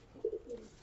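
Two white Punjabi racing pigeons, just landed after an eleven-hour flight, give a soft, brief coo in two or three low pulses, close by and alone.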